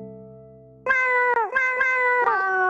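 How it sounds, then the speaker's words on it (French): A house cat meows up close: a sustained, pitch-bending call breaks into several loud, clear meows with short gaps, after a faint low hum. "Oh, mon petit chat..."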